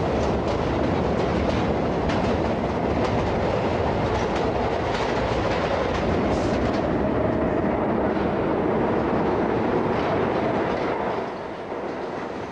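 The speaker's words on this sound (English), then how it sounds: "The train smashed through the dark." A subway train speeds through a dark tunnel with a loud, continuous rumbling roar and rattling wheels, steady and close throughout before easing slightly at the end.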